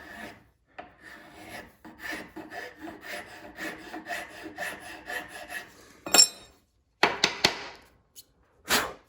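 A hand file rasps across wood while smoothing and feathering a contour, a series of quick, close scraping strokes in a steady rhythm, then a pause, a few sharper isolated scrapes and a final burst.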